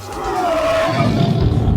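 A lion roar sound effect swells into a loud, rough, sustained growl that holds strongly to the end.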